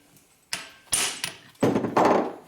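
Sharp, heavy impact knocker blows on the top end of a 1973 Aermacchi Harley-Davidson X90 90cc motor, four or five loud percussive strikes at irregular spacing, the last ones ringing and rattling longer.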